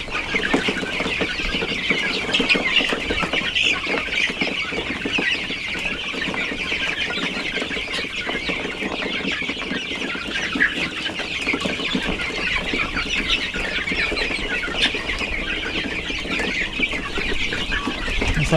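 Pure Darag native chickens with black legs cluck and murmur continuously as a flock, a dense, steady chorus of clucks close by, with no talking.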